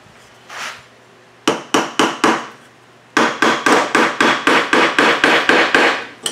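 A quarter inch bushing is hammered into place for a whirligig bird chaser: a first group of four sharp strikes, a pause, then a longer run of about eleven evenly spaced hammer blows, loud and close.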